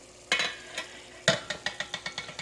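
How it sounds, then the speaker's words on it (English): A spoon stirs thick hot dog chili in a cooking pot, making a few scraping strokes and then a quick run of rhythmic, wet scrapes close by with no talking. "Just gonna give it a stir."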